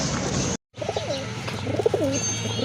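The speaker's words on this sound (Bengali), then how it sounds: "আরেক জোড়া কবুতর এই যে দেখেন কাগজি কবুতর" Kagji running pigeons cooing close by in repeated rolling coos, broken by a brief gap, over a steady background hum; no talk.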